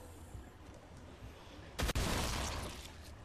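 A gun fires once in Dead Island, a sharp, loud burst just past the midpoint that cuts through a quieter game background, followed by a lingering rumble.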